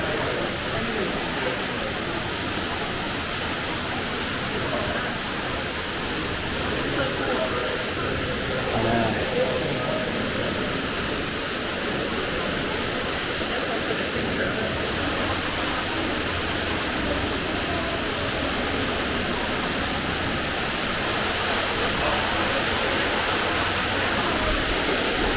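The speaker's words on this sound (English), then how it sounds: "here's the 100-foot waterfall." A powerful 100-foot waterfall inside a cave roars steadily for the whole stretch, a dense, unbroken rushing wash of water that sounds close by and fills the space.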